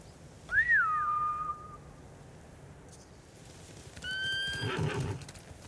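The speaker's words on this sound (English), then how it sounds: "Bastards scared off the horses." Samurai horses in Ghost of Tsushima let out a loud rising and falling whinny up close, then a second shrill neigh follows after a quiet pause, with faint hoofbeats and rustle underneath and no talk.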